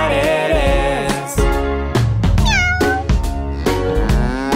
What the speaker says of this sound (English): A cat goes meow, meow, meow, meow.